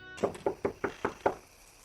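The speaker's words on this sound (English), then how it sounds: "She's knocking, nobody's answering." Someone knocks on a door of an isolated plantation house, six firm evenly spaced raps, close and loud, heard alone with no talk.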